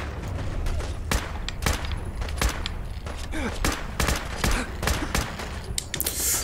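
Rifle gunfire in Fallout 4: a rapid series of sharp, loud shots crack out one after another in irregular bursts, with faint game sounds between them.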